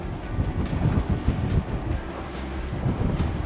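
A Marlin 40 maxi inflatable boat planing through waves at speed in very strong wind, with steady loud wind buffeting over the microphone and a rushing wash of water against the hull, and no voices.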